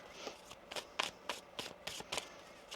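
Quiet riffling of tarot cards being shuffled, a string of soft brisk bursts in an uneven rhythm, close and faint, with no speech.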